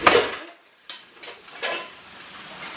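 Pots and pans clatter while glutinous rice is being cooked in several pans: a few sharp metallic clinks and scrapes close by, separated by short pauses.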